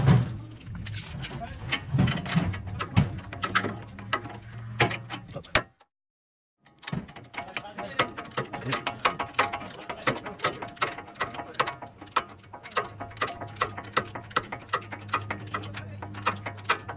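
A ratchet tightening a bolt on an SPC upper control arm adapter plate clicks in steady rapid strokes throughout, with a brief pause midway, while a person talks over the work.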